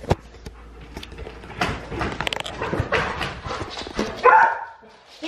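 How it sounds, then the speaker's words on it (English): Household dogs barking and scuffling at home right after their owner arrives, with paws and clattering movement, bursts of activity throughout and a louder flurry near the end, amid background voices. "You guys, I need tips for controlling my dogs."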